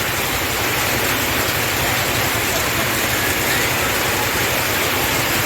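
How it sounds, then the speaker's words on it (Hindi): Torrential downpour with strong gusting wind during a storm, a loud, dense, unbroken roar of rain and wind that fills the whole clip with no voices. "कितनी तेज बारिश हो रही है।"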